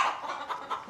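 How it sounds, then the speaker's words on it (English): A chicken in a farm barn clucks in a quick run of four or five short, throaty pulses, close and fairly loud with no talking. "Well, hello, chicken."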